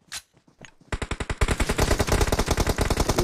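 Rapid automatic gunfire in PUBG Mobile rattles loudly and continuously, starting after a few isolated shots and then hammering in a dense, steady burst of close-range fire.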